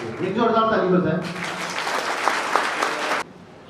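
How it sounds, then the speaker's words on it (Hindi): An audience at an education award ceremony breaks into a short burst of applause, loud and dense for about two seconds, then it stops abruptly. A voice speaks just before the clapping. "एक जोरदार ताली हो जाए।"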